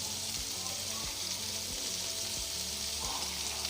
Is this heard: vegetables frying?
yes